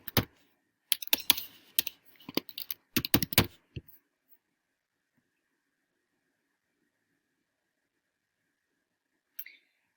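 Fingers type a folder name on a computer keyboard in quick bursts of close, crisp key clicks, then fall silent, with one last faint click near the end.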